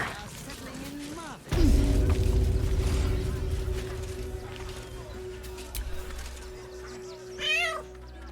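A cat character in a video game meows briefly, then a loud booming thud is followed by a long droning tone, and a second rising meow comes near the end.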